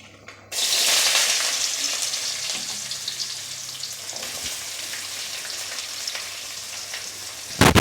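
Onions frying in oil for a fish curry: a loud, steady sizzle bursts in after a brief quiet start and continues unbroken, with faint crackles and no voices.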